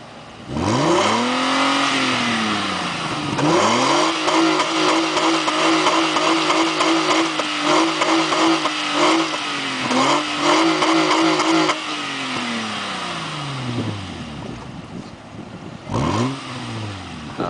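A 1996 Nissan Maxima GXE engine revs repeatedly through its exhaust system, loud and close, climbing and falling in several pulls with a sustained hold in the middle.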